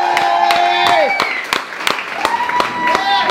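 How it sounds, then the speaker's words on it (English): Clapping and cheering from a crowd at a Sunbird Records event in Darwen, with sharp individual claps over a bed of voices and tonal sounds. "So a big round of applause"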